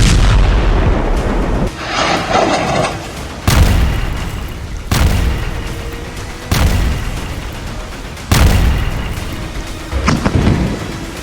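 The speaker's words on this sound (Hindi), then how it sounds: "इजरायल के तूफानी हवाई हमलों में बमों के धमाके ऐसे इमारतों को उड़ा रहे हैं कि जैसे तूफान में पेड़ उखड़ पड़े।" Bombs from Israeli airstrikes explode on buildings in Gaza: about six heavy, loud booms strike at roughly even intervals, each followed by a rumbling decay.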